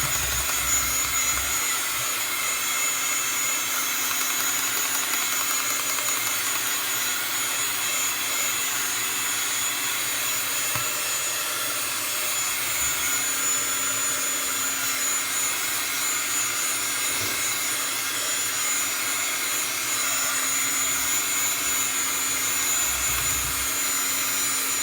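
A heat tool blows hot air to heat-set ink on a stencil, giving a loud, continuous whirring fan hiss with a steady high whine that holds unchanged throughout.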